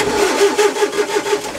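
A tractor engine cranking on the key, a fast rhythmic starter churn with pulsing engine chugs, loud and close throughout, with no talking.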